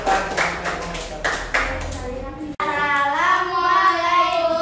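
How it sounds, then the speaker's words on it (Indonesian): A group receives a short burst of hand clapping, a few quick rounds of claps lasting about two seconds. A voice then starts speaking clearly over a quieter background. "Boleh tepuk tangan untuk kelompok 1."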